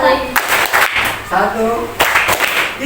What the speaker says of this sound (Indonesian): Satu tepuk. Dua tepuk. Tiga tepuk.